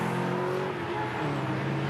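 A touring race car at the 2020 Townsville Tin Tops race accelerates hard to rejoin the field, its engine note rising and falling through the gears at a moderate distance, with no voices.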